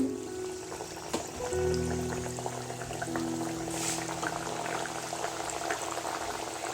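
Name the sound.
thekua dough pieces frying in hot oil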